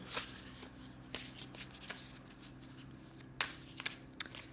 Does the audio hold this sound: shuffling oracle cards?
yes